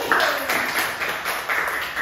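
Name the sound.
classroom applause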